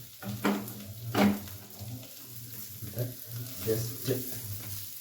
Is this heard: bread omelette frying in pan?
yes